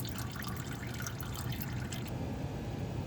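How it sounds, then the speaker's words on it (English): Engine oil drips and trickles from the drain of a Fiat 500X during an oil change: a faint, irregular patter over steady background noise that thins out toward the end. "got the oil drained, and you can see it's just dripping"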